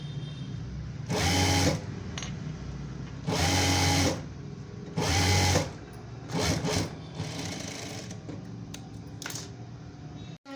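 A sewing machine stitches a fitting seam on a blouse in four short bursts of whirring, with quiet handling noise between runs and no talk.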